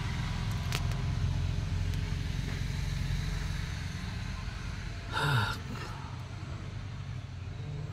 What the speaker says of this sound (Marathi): रिक्षा सारख्या चालू आहेत.